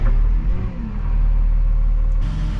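A Massey Ferguson 7618 tractor engine turning over and catching, then settling into a deep, loud, steady diesel rumble close by.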